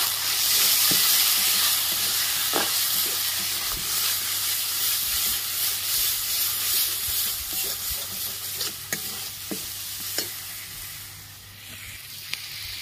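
Chopped tomato with salt is stir-fried in a hot pan: a continuous sizzling hiss runs under repeated scraping stirs and occasional clicks of the utensil, with no talking.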